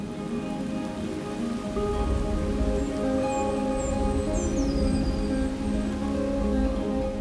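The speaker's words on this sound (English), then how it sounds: "No predator dares to hunt in this heavy downpour." Heavy downpour of rain on an African river landscape, a dense steady hiss of drops pounding the ground and water, loud and continuous with no break, with faint bird chirps sliding high above it.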